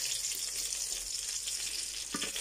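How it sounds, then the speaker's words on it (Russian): Potato and meat patties fry in a pan with a constant close, bright sizzle and crackle, a short clatter near the end, and no talking. "Я буду жарить."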